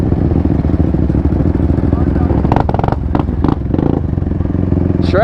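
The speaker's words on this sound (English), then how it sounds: "he's shredding that quad like it's no one's business" A two-stroke quad engine buzzes and revs steadily while being ridden, loud and continuous, with clattering bursts and a brief rising whine near the end.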